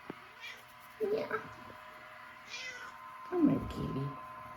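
A house cat meows a few times, short close calls separated by pauses, with quiet background hum.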